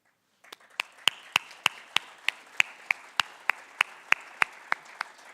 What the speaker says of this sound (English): If I could please ask all my fellow graduates to stand and applaud to show your appreciation.